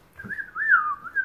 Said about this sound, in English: that was one of the best whistles